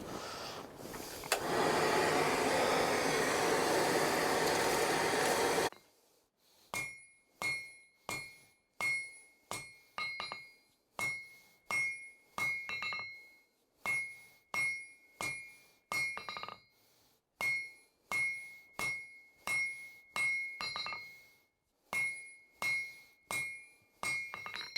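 Hot steel from an old file being hammered into a sabre on a cold, snow-chilled anvil, heard as a long run of ringing hammer blows in steady rhythm, with a loud roaring blast of forge air first.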